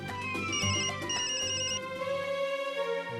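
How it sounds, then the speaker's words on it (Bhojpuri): A mobile phone ringtone plays nearby in a domestic scene: a bright, repeating electronic melody with sustained tones, clear and moderately loud, heard alone. "फोन बज रहल बा"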